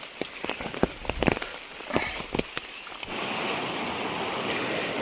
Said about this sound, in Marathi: पावसान मित्रांनो बारीक बारीक सुरुवात केल्यानं